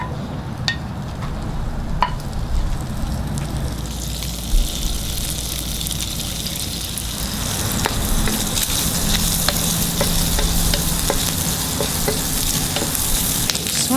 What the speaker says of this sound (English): Turn on the heat, and we're going to start cooking the spam first.